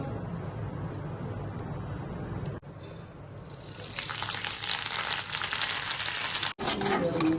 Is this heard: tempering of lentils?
yes